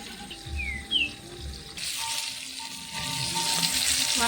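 Small hilsa fish frying in oil make a continuous hiss that swells louder partway through, with a couple of faint bird chirps early on.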